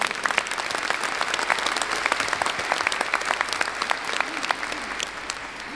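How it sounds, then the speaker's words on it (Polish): A concert crowd at a charity Christmas and New Year show in Bytom claps for several seconds. The applause is loud, continuous and full, with many hands clapping at once and no voices on top. "Bardzo proszę o ogromne brawa."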